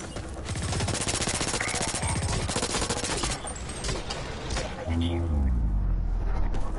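A submachine gun fires rapid sustained bursts in a deathmatch shooter game, loud and close, with a heavier thump and rumble near the end.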